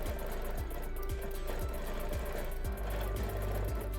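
A sewing machine quilts hexagon patterns with a quilting template, running in a steady low mechanical hum with regular soft rhythmic pulses of the stitching motion, with no talk.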